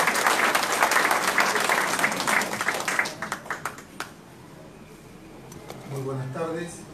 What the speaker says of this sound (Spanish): Fuertes palmas para recibirlo, por favor.